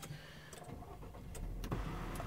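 The electric glass sunroof of a 2017 Subaru Levorg 1.6GT slides open into the roof, a soft motor whir building steadily under a few small clicks and knocks inside the cabin, heard up close and quietly.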